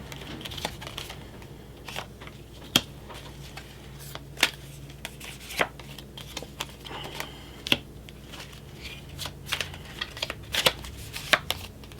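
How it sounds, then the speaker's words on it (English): Tarot cards are shuffled by hand in a continuous run of crisp riffling and slapping clicks, sharp and uneven in rhythm, close and clear with no talk. "we're going to pull tarot cards and see what the story is for you."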